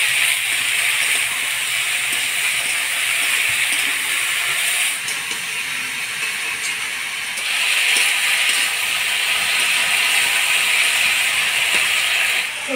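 Small fish and mixed vegetables seasoned with turmeric, salt and green chilli being stirred in a hot pan, giving a steady close sizzling hiss with faint scraping through the whole stretch, no voices.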